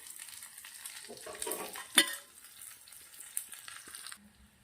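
Chopped garlic with green and red chilies hits hot ghee in a tempering pan, giving a steady crackling sizzle with a sharp pop partway through, heard close and without talk.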